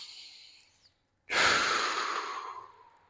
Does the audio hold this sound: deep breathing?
yes